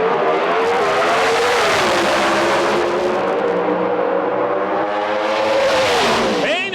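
Two Pro Stock Dodge drag racing cars run side by side in Las Vegas, their engines screaming loud and close with sustained high revs and a rising pitch at the end.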